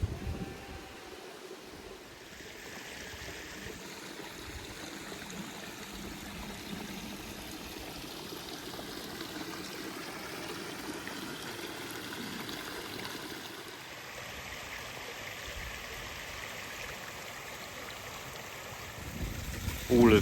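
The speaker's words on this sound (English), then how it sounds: "All of these side streams are fed by springs." A spring-fed side stream on a remote mountainside flows with a steady, soft rushing and trickling, continuous and moderately near, with a faint breeze and no voices.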